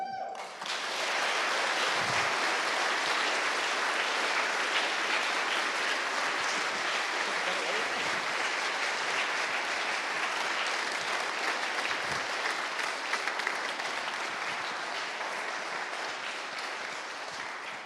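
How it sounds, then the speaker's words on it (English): A crowd at a security conference closing ceremony breaks into sustained applause, loud and dense clapping that carries on for many seconds before slowly tapering off. "Can we get a big round of applause for these two?"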